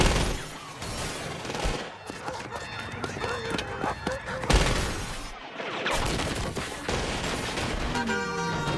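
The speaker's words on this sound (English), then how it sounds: "Shots fired." Bursts of gunfire ring out during a police pursuit of bank robbers in a TV drama, loud shots mixed with engine noise, movement and scattered voices across a busy action scene.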